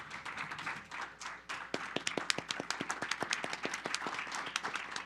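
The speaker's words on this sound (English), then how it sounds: "Let's all stand and give her a round of applause." An audience at a community meeting gives a standing round of applause, starting softly and swelling into dense, sharp, close claps that carry on steadily.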